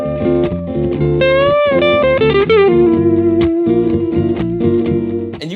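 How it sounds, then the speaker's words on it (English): Electric guitar lead with distortion and effects, a string bend pushed up then let back down in vocal-like, sliding phrasing, with pitch swoops and sustained notes, loud and alone. "And you push the bend up and then bring it down before going to the pitch fully."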